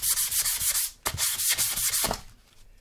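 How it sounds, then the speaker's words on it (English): A wooden cutting board is sanded by hand with 220-grit sandpaper in quick, rhythmic back-and-forth strokes, two close bursts of scratchy rubbing separated by a brief pause. "only we're using a different grit of sandpaper. This time we'll use the 220, and you'll hear the difference right away."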